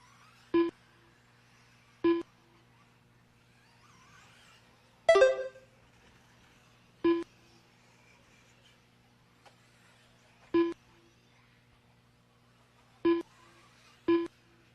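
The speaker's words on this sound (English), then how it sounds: "Your transponder's working, Steve." Short electronic beeps from an RC race transponder check-in at a track hosting 1/8 scale qualifiers, sounding as seven evenly spaced single beeps, with one louder burst of noise near the middle, over a quiet steady hum.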